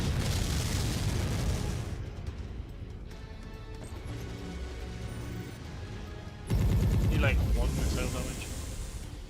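Mech weapons fire in MechWarrior 5, a sustained barrage of booming, crackling shots from close range that swells louder near the end, with a brief lull in the middle and speech-like sounds mixed in.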